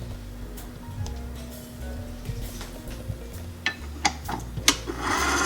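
A stand mixer runs on low speed, level 2, combining onion fried bake dough ingredients, a steady low motor whir with soft rhythmic knocks and rubbing thumps growing more frequent.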